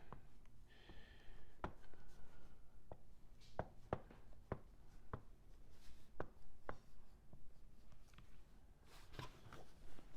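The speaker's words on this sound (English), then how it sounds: "So let's just go ahead and draw something here, or write something." Pen strokes on a Crayola Mess Free Touch Light drawing board, a run of sharp, irregular taps and scratches close up as something is drawn or written, with no talking.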